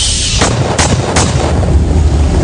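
Three sharp gunshots crack in quick succession, loud and close, over a dull rumbling background with no speech.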